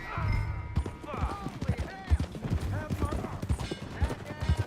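Horse hooves clip-clopping at a steady rhythm in Red Dead Redemption 2, the loud rapid beats running throughout alongside game music and dialogue voices.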